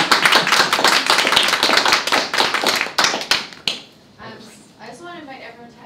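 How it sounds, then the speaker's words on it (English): Loud audience applause from a research discussion panel crowd, dense steady clapping for about three and a half seconds that then thins out and fades, with a voice speaking briefly over the tail end. "I think another round of applause."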